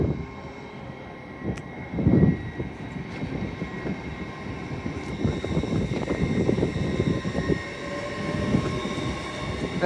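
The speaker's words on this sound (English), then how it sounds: "Working a LNER Azuma service from Edinburgh Waverley to London King's Cross." An LNER Azuma, unit 801-226, running through York station on an Edinburgh Waverley to London King's Cross service, giving a steady rumbling pass with rising and falling rail noise and no voices.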